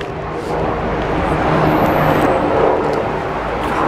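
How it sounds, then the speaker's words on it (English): A steady, broadband engine roar holds throughout, swelling slightly in the middle like an airplane passing overhead, with faint outdoor noise beneath. "Can you hear the airplane?"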